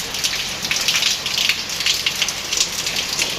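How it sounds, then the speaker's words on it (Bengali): Heavy rain pours down during a night storm in Faridpur town, Bangladesh, a dense, loud, continuous hiss of drops pattering on surfaces with gusty swells and no voices. "গাইজ দেখতেছেন বৃষ্টি নামতেছে প্রচণ্ড পরিমাণ"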